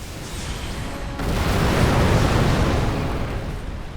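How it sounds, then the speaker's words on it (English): A car runs off the road into a fiery explosion in The Amazing Spider-Man video game, heard as a loud, rumbling boom that swells and holds for a few seconds before slowly fading. "the car runs off the side of the road and you kill everybody in a fiery explosion"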